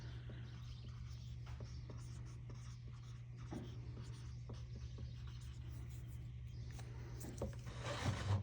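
A small marker scratches and squeaks as it writes on a plastic straw cup, with short rubbing strokes close up over a steady low electrical hum.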